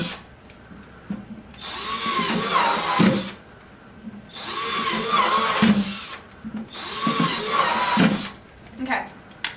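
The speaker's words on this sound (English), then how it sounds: "you're going to take your 1/4 inch drill bit, and you're going to drill the same holes for your U-bolts" A power drill fitted with a 1/4 inch bit bores U-bolt holes through a bucket lid for a homemade grow tower, running in three loud, whining bursts of a few seconds each, with someone talking in the pauses between them.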